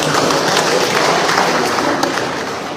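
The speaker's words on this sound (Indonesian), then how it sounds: "Tepuk tangan untuk para kader semuanya." An audience claps for party cadres at a political gathering, a dense, loud, steady wash of many hands that tapers slightly toward the end.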